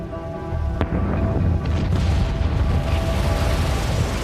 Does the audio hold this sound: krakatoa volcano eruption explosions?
yes